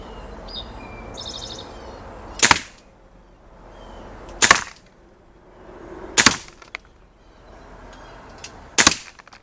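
Four sharp, loud Daisy Powerline 426 air pistol shots at roughly two-second intervals, each a crisp crack with a quick decay, with faint chirps in the background.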